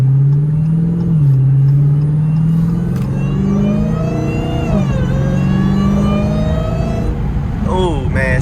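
A Dodge Challenger Hellcat engine revs loudly and continuously while driving, its pitch rising and falling through gear changes, with a quick sharp climb near the end.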